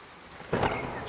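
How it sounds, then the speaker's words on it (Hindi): A brief cartoon sound effect of steady rain falling, with a sudden swell of rumbling noise partway through, heard alone for about a second. "सुबह हो गई पर बारिश बंद नहीं हुई।"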